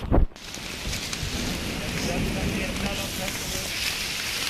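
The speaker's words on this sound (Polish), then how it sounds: "no i grad jest, tylko my jesteśmy pod drzewami" Hail pattering steadily on trees overhead in a forest, a dense continuous rustling hiss after a brief loud knock at the start, with no talk.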